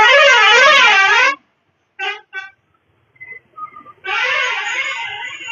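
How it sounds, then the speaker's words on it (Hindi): Car horns honk on a winding ghat road in Chhattisgarh: a long wavering blast, two short toots after a pause, then another sustained warbling honk, loud and close with faint traffic between. "ये गाड़ी वाला मार रहा हॉर्न"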